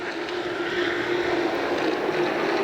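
Late model stock cars roar together at Winchester Speedway on its high banks, a steady, loud engine drone that holds without a break, with no voices over it.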